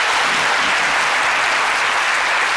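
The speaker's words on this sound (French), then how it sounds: "Je vous demande de les applaudir très très fort." Studio audience at a French comedy show breaks into loud, dense applause, a steady wash of clapping that fills the whole stretch without pause.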